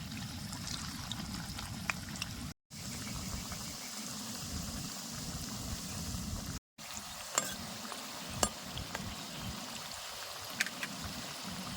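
Semolina nakshi pitha sizzles steadily in hot oil, a continuous close frying hiss with brief pops, broken by two short gaps of silence.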